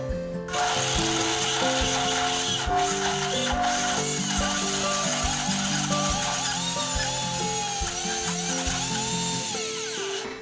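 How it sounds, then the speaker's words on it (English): Loud high-powered blender on its whole food blend setting churning plant-based nice-cream, a continuous grinding motor whine with rhythmic chunky knocking as frozen ingredients tumble, close and unbroken, with no voices. "I'm gonna put it on the whole food blend button, and again, this is gonna be loud"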